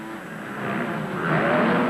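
Motocross bikes in an MX2 race, including a Honda, give a rising, roaring engine drone that swells louder as they close in.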